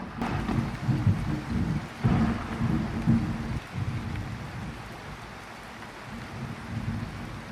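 Rain pours steadily while low thunder rumbles underneath, with a sharper crack near the start and another a couple of seconds later, all fairly faint and distant-sounding.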